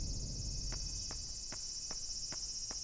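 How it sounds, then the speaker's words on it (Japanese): Higurashi cicadas chirping as night ambience in the horror game Yomawari: a steady high-pitched insect drone with six short, evenly spaced chirp pulses about every half second, no talking. "日暮らしも泣いてるよ"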